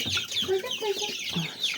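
Several chickens cluck in short, irregular bursts close by, with a few higher squawks mixed in over a soft farmyard background.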